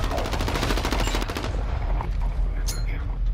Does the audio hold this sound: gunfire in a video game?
yes